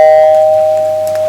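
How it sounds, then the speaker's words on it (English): A doorbell chimes once loudly and close by in a stage drama, its clear tone ringing and slowly fading away. "There is the bell."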